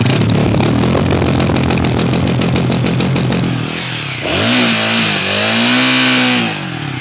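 A Royal Enfield Guerrilla 450 motorcycle engine revs hard to about 6000 RPM with a fast, buzzing pulse, then drops to a lower, wavering idle, loud and close with no talking.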